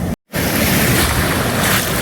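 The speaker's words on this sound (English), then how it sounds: "Yeah, we're right in the waves right now." Ocean surf churns and splashes around a person's legs while they stand in the waves on a morning rock-hunting outing, a loud, continuous wash with wind noise after a brief dropout at the start.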